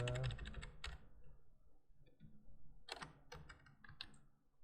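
Computer keyboard typing and quick key presses while working in a spreadsheet: clusters of crisp clicks in short bursts with pauses between, fairly close and moderately quiet.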